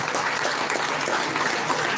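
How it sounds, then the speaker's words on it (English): Dense, steady applause from an audience at a college event for a municipal commissioner, a continuous wash of many hands clapping at even loudness. "special thanks to Commissioner Madam with a big round of applause."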